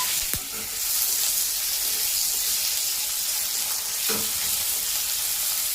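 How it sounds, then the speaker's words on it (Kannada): Guntur and byadgi dried chillies with green chillies frying in oil in a pan, a steady bright sizzle throughout with a couple of brief clinks of stirring, close and without talk. "ಗುಂಟೂರು ಮೆಣಸಿನ್ಕಾಯಿ, ಬಾಡಿಗೆ ಮೆಣಸಿನ್ಕಾಯಿ, ಒಂದು 3 ಹಸಿಮೆಣಸಿನ್ಕಾಯಿ ಫ್ರೈ ಮಾಡಲಿಕ್ಕೆ ಹಾಕ್ತಿದ್ದೀನಿ"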